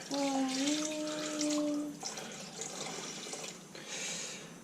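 Liquid poured onto rabbit legs runs and splashes steadily, like a stream being poured, with a tonal hum early on and faint voices in the background.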